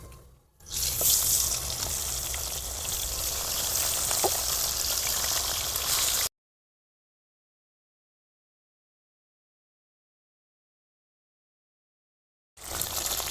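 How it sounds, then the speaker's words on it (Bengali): Steady hissing and crackling of fish frying in hot oil in a wok, fairly close, broken by a long stretch of silence before it returns briefly. "প্রথমে কড়াই তেল বসিয়ে দিছি তেলটা গরম হলে মাছগুলো আস্তে আস্তে দিয়ে দেবো"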